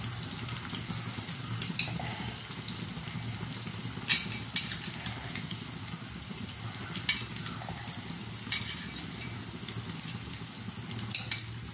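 Green chillies frying in hot oil as a tempering for a bitter gourd dry vegetable dish, a steady close sizzle with scattered spatula scrapes and taps, no talking.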